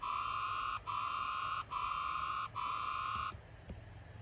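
A synth riser made with Vital gives a bright alarm-like tone in four evenly repeated pulses, each broken by a brief gap, then drops away to a quieter tail near the end, with no talk.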